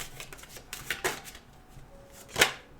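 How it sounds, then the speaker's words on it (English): Tarot cards being shuffled by hand, a run of quick riffling flutters and soft taps ending in a sharper snap, close up with no talking. "Let me shuffle and get your cards"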